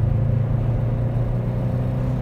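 Subaru Impreza GT engine pulling under acceleration on an uphill road, a dense steady low rumble and hum heard from inside the car, with no voices.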